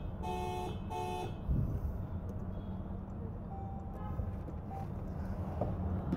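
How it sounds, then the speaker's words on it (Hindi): Two short, close honks from the horn of a Toyota Hilux pickup, a Fortuner-based truck, sound in quick succession over the steady rumble of its idling engine. "this is the horn sound"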